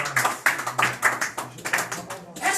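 A congregation at a wake claps in an even rhythmic beat, about two claps per second, close and fairly loud, with a low hum underneath.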